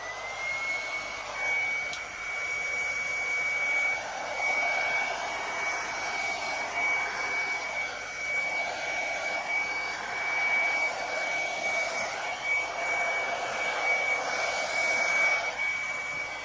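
Hair dryer blowing steadily across a Minecraft-themed acrylic Dutch pour painting, a continuous whooshing airflow with a thin high whine, fairly loud and unbroken for the whole stretch, no talking.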